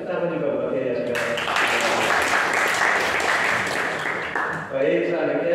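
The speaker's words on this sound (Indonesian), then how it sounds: "Kasih tepuk tangan juga buat dia ya, saudara." Classroom audience applauding a student's correct answer, a broad wash of many hands clapping that rises abruptly after a voice, holds steady for a few seconds, then gives way to talking again.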